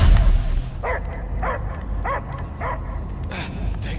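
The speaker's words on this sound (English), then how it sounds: "I hear only barking." A dog barks in a video game (Marvel's Guardians of the Galaxy), a steady series of about five evenly spaced barks over a continuous low rumble of background noise.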